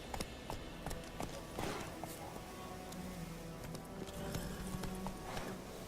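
Horse hooves clip-clop in a steady walking rhythm through a wooded setting, moderately close, with occasional scrapes and small knocks between the steps and no talk.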